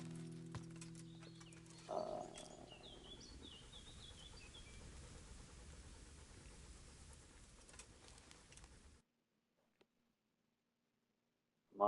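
Horseback riding in Kingdom Come: Deliverance, with steady hoof clatter on the ground across most of the stretch, bird calls in the background, and a brief louder rise near the start before everything cuts to near silence.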